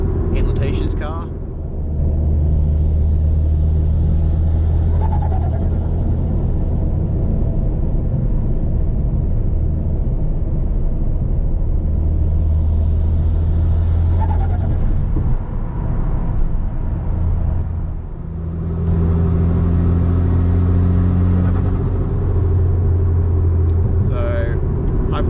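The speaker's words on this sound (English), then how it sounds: "hopefully you can pick that up on camera, the noise, but yeah, mine gets pretty decent spool and then just a light flutter afterwards" A turbocharged Mitsubishi Lancer revs with a loud, close engine drone that rises and falls twice, with turbo spool building and a light flutter as the revs drop.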